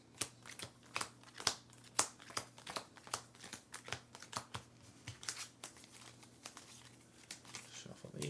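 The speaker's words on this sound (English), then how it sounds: "Shuffle these up." A deck of game cards for a tabletop ranger game is riffled and shuffled with a string of quick papery snaps and flutters, close and soft, over a low steady hum.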